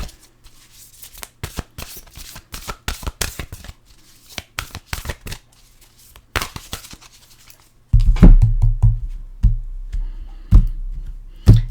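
A deck of oracle cards being shuffled by hand, giving bursts of quick riffling and flicking clicks, close and fairly loud, with a denser, heavier stretch of handling toward the end.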